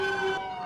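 Roblox NYPD police siren in a video game: a brief steady electronic tone with a held pitch that shifts partway, loud and alone with no talk.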